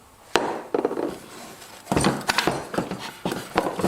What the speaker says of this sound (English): just tap with a hammer or a mallet and it should come out